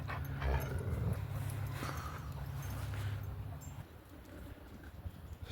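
Dogs move about at an outdoor dog park, with soft footfalls, panting and low whimpers under a steady background of outdoor noise.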